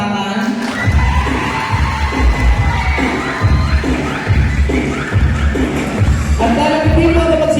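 An audience cheers and shouts in loud rolling waves of crowd noise, with whoops and clapping rising and falling continuously.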